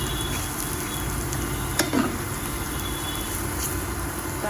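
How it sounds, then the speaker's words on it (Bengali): Potatoes fry in a pan with a steady, close, fairly loud sizzling hiss that runs throughout, broken by one brief scrape near the middle. "আলুটা একটু ভাজা হবে,"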